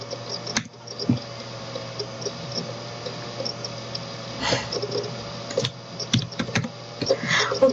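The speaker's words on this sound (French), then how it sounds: "parce que là j'écris sur mon ordinateur" Someone types on a computer keyboard, a steady stream of soft, close key taps with a few louder clacks near the end, over a faint constant hum.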